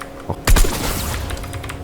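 A shotgun blast in the Fortnite video game sets off a loud burst of gunfire: one heavy, sharp report followed by rapid crackling shots and clatter that continue under busy game noise.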